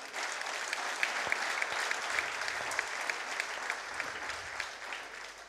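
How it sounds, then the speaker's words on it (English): An audience at a Rotary International evening event gives a steady round of applause for the spouses in the room. The dense clapping holds at an even level throughout. "Can we give them a round of applause?"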